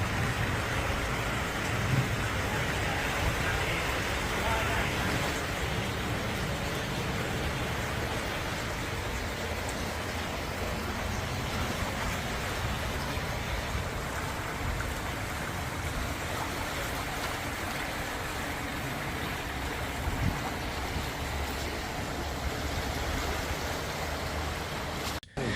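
Heavy rain and rushing floodwater in Lanzarote, a steady broadband wash of water that holds loud and even throughout, with no voices.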